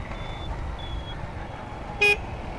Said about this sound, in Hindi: साइड में गाड़ी आ रही है